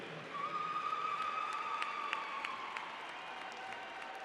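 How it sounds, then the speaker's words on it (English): Steady applause from a crowd fills the space at moderate distance, with a high whistle-like tone ringing over the clapping, at a bill-signing ceremony in Gauteng. "Can we give the Premier a round of applause, please?"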